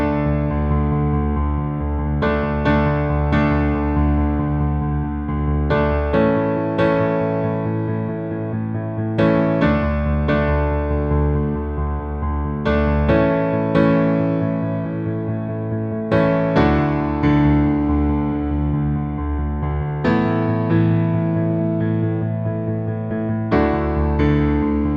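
The intro to a song played on piano as a steady, driving chord pattern with repeated rhythmic attacks, full and sustained throughout, with no voices.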